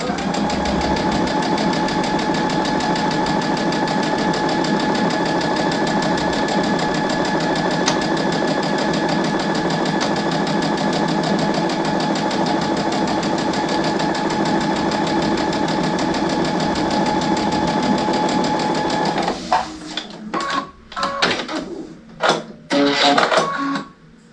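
A sewing machine stitches quilt pieces for a butterfly quilt row, running in one loud, steady, fast mechanical whir for about nineteen seconds before it stops and gives way to scattered clatter of fabric handling.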